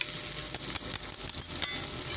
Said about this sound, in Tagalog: gusto ko igisa yung alamang dyan kasi nangangamoy